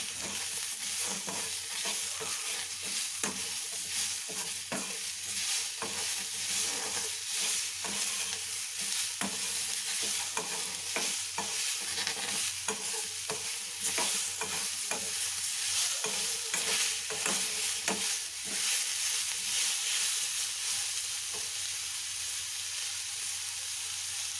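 Tomatoes frying in a pan for a potato and chickpea sambar, a steady soft sizzle with frequent spoon scrapes and stirring taps, fairly quiet and continuous without speech.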